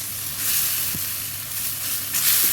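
Fish pieces sizzle as they go into a fried spice paste of chilli, turmeric and bay leaf, a close, steady frying hiss with a faint clink, no voices.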